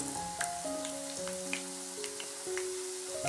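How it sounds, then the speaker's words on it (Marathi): Homemade potato chips sizzle in hot oil as they are turned, a steady bright hiss running under a background melody with a few soft clicks. "आता हे जे चिप्स आहे आपण याला पलटून घेऊ म्हणजे खालची बाजू पण चांगली तेलामध्ये तळून घेऊ आपण"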